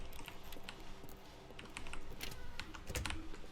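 Rapid, irregular clicking and tapping from a computer mouse and keyboard during PC play of a puzzle game built from Minecraft and The Stanley Parable, light and close with no talk.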